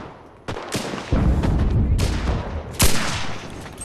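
Gunfire in the war shooter Enlisted: several loud, sharp gunshots spaced irregularly over a few seconds, each with a cracking attack and rumbling reverberant tail, close up.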